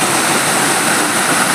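Close, dense rushing of a monsoon-fed waterfall near Sule village in the Kolhapur hills, a constant loud hiss and roar of cascading water with no talking.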